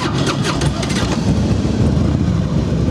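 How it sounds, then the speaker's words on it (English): A 2003 Harley Davidson Softail Deuce FXSTD motorcycle with about 20,600 miles runs up and settles into a steady, loud, rumbling idle through its exhaust, close by, with a brief sputter at the start. "I'll fire it up for you so you can hear the exhaust."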